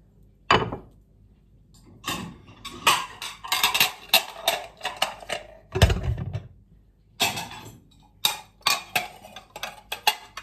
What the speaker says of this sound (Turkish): sabahtan çalıştırdığımız bulaşık makinesini bir boşaltalım.